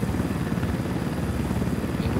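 Helicopter flying in Ghost Recon Wildlands, a steady loud rotor drone that holds for the whole stretch without a break.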